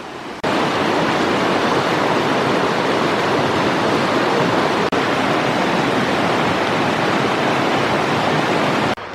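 A river rushes near Sliding Rock, a loud, constant broadband roar of moving water with no breaks, heard close and alone.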